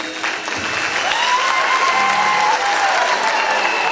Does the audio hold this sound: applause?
yes